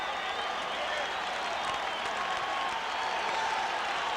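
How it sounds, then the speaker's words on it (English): Raider fans in a stadium at a 1987 preseason football game against the Bears, a broad steady roar of cheering and applause from a large crowd, distant and continuous without breaks. "the Raider fans, who haven't had much to cheer about so far, get off their hands and start cheering them on"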